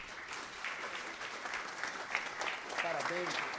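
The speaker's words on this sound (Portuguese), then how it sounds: "eu quero pedir uma calorosa salva de palmas em pé." A crowd gives a standing ovation in the Mogi Guaçu municipal council chamber during a formal session, with a steady wash of clapping through the short stretch and a voice rising briefly near the end.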